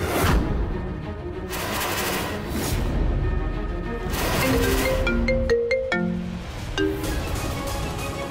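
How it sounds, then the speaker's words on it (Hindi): A mobile phone ringtone plays in a TV drama scene, a short melodic ring tune rising over a busy background of music and ambience, fairly prominent in the second half. "ये तो महक के फोन की रिंग है"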